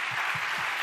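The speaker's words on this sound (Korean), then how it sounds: "우리 총장님 박수 한번" An audience in a Korean hall applauds the university president, a steady wash of clapping filling the short moment with a few low thumps beneath.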